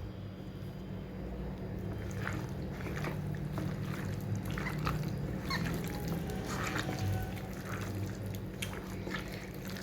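Hands squish and knead chicken pieces in a lemon marinade, giving soft wet slaps and squelches that repeat irregularly at close range.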